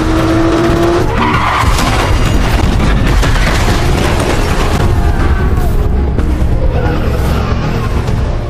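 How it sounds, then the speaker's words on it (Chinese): A bomb blast tears through a street in a film action scene, a loud sustained roar of explosion and rumbling debris mixed with screeching vehicle noise, dense and unbroken throughout. "剧烈的爆炸清空了整个街道"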